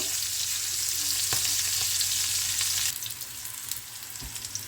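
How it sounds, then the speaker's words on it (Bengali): Steady, loud hiss of green chillies frying in hot oil over full flame, with a few soft clicks and scrapes of stirring; the sizzle thins slightly partway through. "ফুল ফ্লেম, লঙ্কাটা আমাদের একটু ফ্রাই হয়ে যেতে হবে।"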